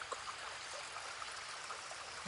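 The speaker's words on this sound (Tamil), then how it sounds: "ஒரு சிற்றோடைய வந்து போகுது இது உள்ளவே." A small park stream of clean rainwater running down from the hills flows with a soft, steady trickling rush, faint and continuous and free of any voices.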